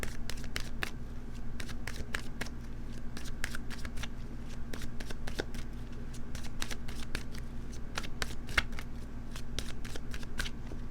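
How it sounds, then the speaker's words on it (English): A tarot card deck is shuffled steadily for about eleven seconds, a dense run of quick riffling snaps and card flicks repeating close up at a fairly even level, with no talking over it. "let's cut the deck and see what comes up for you"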